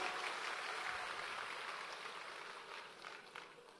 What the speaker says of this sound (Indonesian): Kita beri tepuk tangan untuk Uskup Anton.